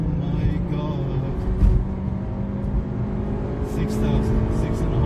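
A Honda Civic Type R FN2 engine revs around 4,000 RPM, a steady loud drone heard from inside the car, with a slight swell partway through.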